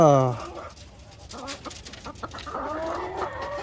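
Farm chickens cluck and squawk nearby in short, irregular bursts, with a louder call at the start and scattered fowl noises under a person's speech.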